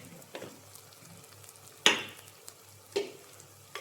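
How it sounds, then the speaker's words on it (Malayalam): Coriander seeds frying and being stirred in a pan for chicken curry, a low steady sizzle with sharp scrapes of the spoon at intervals, close and alone with no talk. "നന്നായി ഇളക്കുക. ഈ മല്ലി നന്നായിട്ട് മൂക്കണം."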